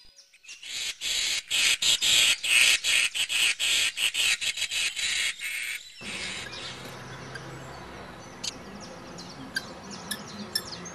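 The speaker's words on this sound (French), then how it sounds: "Le mâle crie de joie pour l'annoncer dans le quartier." Male common kestrel in a neighbourhood nesting site in Ploufragan, Côtes d'Armor, giving a loud, rapid series of sharp repeated calls for about five seconds, then fading to quieter background sound with occasional faint chirps.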